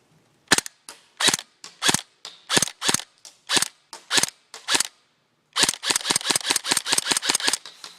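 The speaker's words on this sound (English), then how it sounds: "This is full auto. And back to semi when you can see the blowback action." A G&G GR4 G26 airsoft gun fires close and loud, first in separate semi-automatic shots with short gaps, then after a pause in a rapid full-auto burst of sharp cracks.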